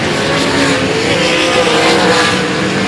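Dirt track race cars at Cotton Bowl Speedway roar around the oval in a loud, continuous engine wash with tires scrabbling, heard from trackside.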